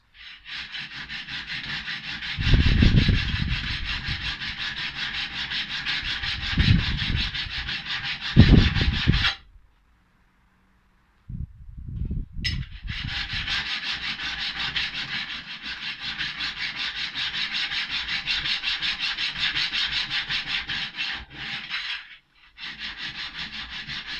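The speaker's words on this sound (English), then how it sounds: "so I'm just using the file. I'm trying to keep the card scraper as 90 degrees" A metal file is pushed across the edge of a steel card scraper held at 90 degrees, giving a loud, close, continuous rasping scrape with a few heavier strokes and one brief pause, no talking.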